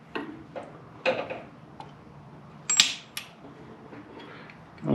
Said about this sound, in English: I'm going to push the axle in.